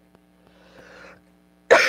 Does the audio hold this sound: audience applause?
no